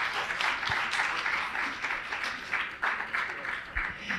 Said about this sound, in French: on peut bien entendu les applaudir